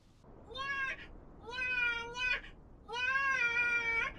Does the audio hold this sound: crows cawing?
no